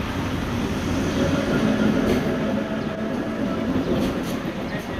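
A train rumbles past, a steady loud roar of rail cars with a faint clickety-clack of wheels, heard alone without voices.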